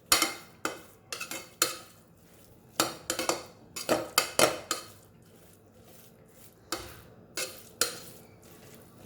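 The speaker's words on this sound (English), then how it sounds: "I'm just going to mash it a bit." Fully cooked rice being mashed in a pot for ghee payasam, a run of irregular scraping and tapping knocks of a utensil against the pot, some quick clusters, some single, close and fairly loud with no talk.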